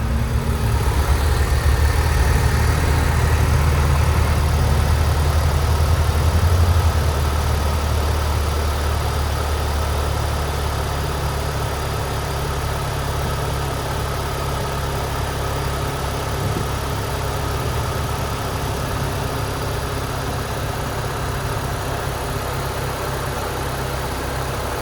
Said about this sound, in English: let's listen to the engine.